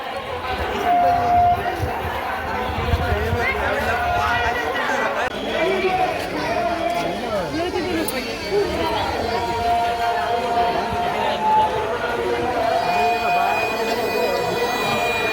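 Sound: crowd of pilgrims near Pandharpur temple on Ashadhi Ekadashi

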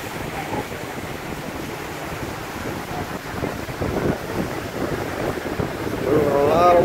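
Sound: ocean waves and wind as cruise ship departs

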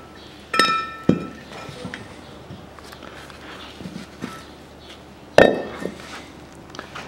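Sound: steel wheel hub being turned over on a workbench

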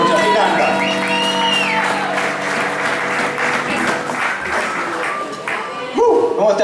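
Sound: audience applause and cheering at a concert

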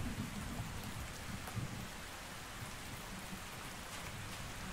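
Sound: rain in Ark Survival Ascended video game

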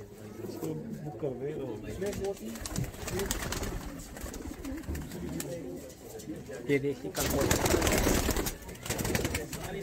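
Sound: pigeons cooing in a pigeon loft

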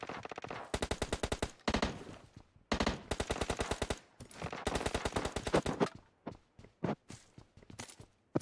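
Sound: gunfire in the video game PUBG Mobile

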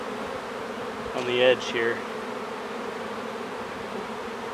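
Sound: honey bees buzzing in a wine barrel hive

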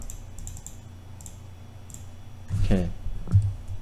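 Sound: typing on a computer keyboard

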